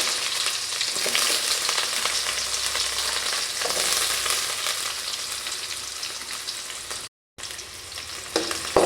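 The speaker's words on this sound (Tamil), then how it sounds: "வெங்காயம் நல்லா வதங்கட்டும்." Small onions fry in oil in a kadai along with mustard seeds and urad dal, giving a close, steady sizzle with stirring that cuts out for a moment near the end.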